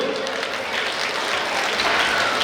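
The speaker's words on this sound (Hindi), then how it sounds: "ऐसे ही भाई साहब को ताली बजा के बताओ कि आप भी मालिक हो" An audience at a grand felicitation ceremony for Delhi's Chief Minister, ministers and government MLAs claps loudly, a dense wash of applause that stays strong and even throughout, with a faint voice underneath.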